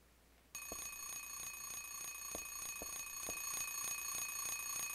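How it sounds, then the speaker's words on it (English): An alarm clock in the video game Silent Hill 3 starts ringing abruptly after a brief quiet moment, a sustained electronic tone with steady rhythmic pulses continuing loud and unbroken to the end. "The alarm clock's going off."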